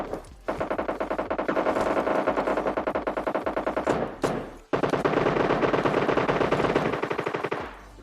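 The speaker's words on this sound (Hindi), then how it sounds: "तो फिर यहाँ तुम गोलियों की आवाजें सुनो बैठकर, जो कि कुछ ज्यादा ही गोलियां चलने वाली हैं।" Sustained automatic gunfire from PUBG battle-royale gameplay: rapid rattling machine-gun bursts that run for several seconds, break briefly, then resume just as dense and steady at moderate loudness, with no talking.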